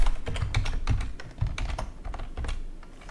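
Rapid keystrokes on a computer keyboard while a track name is typed into Bitwig music software, an irregular burst of close, crisp clicks and taps running for about three seconds with no talking.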